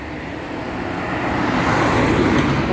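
A car on a road approaches steadily, its engine and tire rumble rising in loudness over a few seconds as it draws near and passes close by, with no talking.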